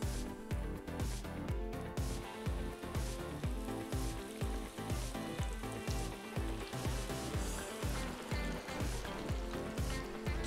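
Fish frying in a pan for sweet and sour fish, a continuous crackling sizzle of hot oil with rhythmic bursts and a low bubbling undertone, loud and close, with no talk.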